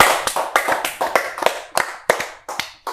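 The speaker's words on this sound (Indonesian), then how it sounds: "Tepuk tangan semuanya." Clapping at a youth career and education talk, a small group of hands striking in a loose, uneven rhythm, close and fairly loud, with no talking.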